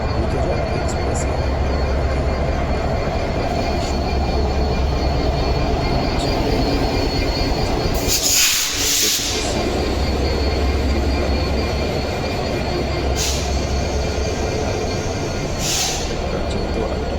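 An express train running on rails, heard from inside as a loud, continuous rumble with rhythmic wheel clatter and brief high metallic squeals midway and toward the end.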